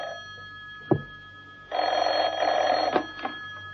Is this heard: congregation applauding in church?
no